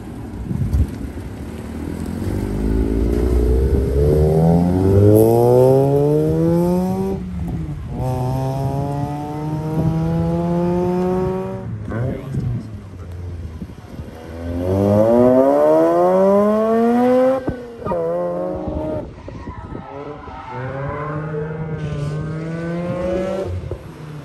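A flame-tuned Mazda RX-8 laps a race track, its loud engine note climbing and dropping repeatedly through shifts and corners, heard close throughout with no talk.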